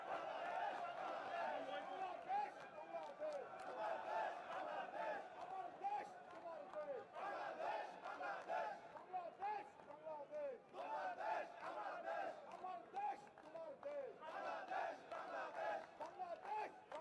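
Distant crowd at a cricket stadium in Bangladesh roars and cheers in steady waves throughout, a faint wash of many voices with no clear talk on top.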